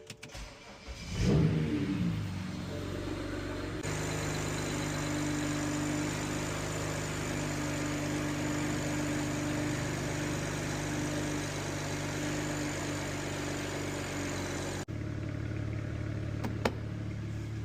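A BMW 335i engine cranks and catches after an oil change, then settles into a steady rumbling idle that runs on for over ten seconds before the tone shifts slightly.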